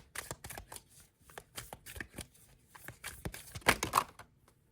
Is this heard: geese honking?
no